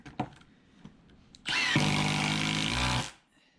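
A Milwaukee M18 Gen 3 cordless impact driver whirs loudly for about a second and a half after a few light clicks, then winds down to quiet.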